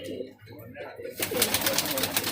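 Pigeons kept by a breeder coo nearby, soft low throaty calls at the start that give way to louder broadband rustling and wing-like flutter noise. A voice is heard.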